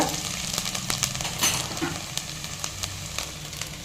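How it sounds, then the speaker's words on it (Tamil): Steady low sizzling of garlic sautéing in oil, with scattered scraping and stirring clicks over the top, fairly quiet and close. "இதில் பூண்டு தான் ரொம்ப நல்லா டேஸ்ட் கொடுக்கும் அதை சேர்த்துட்டு நல்லா வதக்கி விடுங்க"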